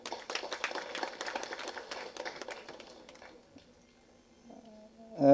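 Audience applause at a Tamil film audio launch event, a dense patter of many hands for about three seconds that thins out and fades, followed by a quiet pause and a louder burst of other sound at the end.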